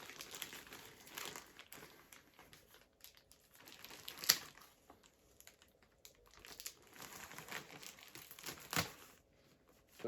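Crinkling and crackling of a plastic parcel bag from lost mail being torn and pulled open, with a few sharper rips standing out, close by and with no talking.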